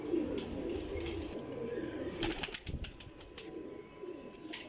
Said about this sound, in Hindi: लो जी माशाल्लाह टैडी गोल्डन कबूतर है